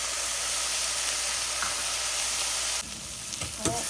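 Onions sauté in hot oil for a Tamil mathi fish kuzhambu, giving a steady, even sizzle with a few soft stirring scrapes near the end.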